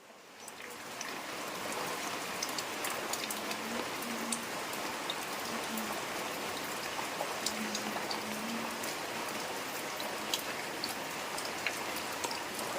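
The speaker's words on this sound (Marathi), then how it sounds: "आणि आज देखील खूप पाऊस आहे" Heavy rain falls steadily with a dense hiss and scattered sharper drops pattering nearby, uninterrupted throughout.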